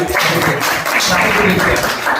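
An audience at a Hindi-language business seminar applauds with a loud, dense, steady wash of many hands clapping that runs the whole moment without break.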